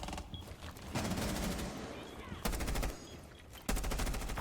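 Gunfire in a competitive shooter video game, with rounds fired through walls at opponents: several sharp bursts of rapid automatic shots separated by short gaps, loud and close over faint background game noise.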